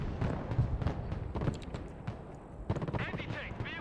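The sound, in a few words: gunfire from units in the video game Broken Arrow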